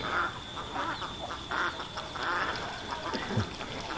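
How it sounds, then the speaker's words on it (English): Ducks quack repeatedly at moderate distance in steady rain at a shed foundation site, their calls scattered over a constant wet hiss. "The ducks are happy though."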